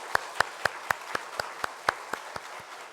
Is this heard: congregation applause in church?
yes